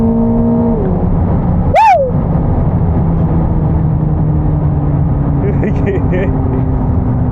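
A 1000-horsepower Corvette ZR1 launched hard with no traction, its engine droning loud and near under a sharp rising wail and a short shout, then settling into a steady roar with wind noise.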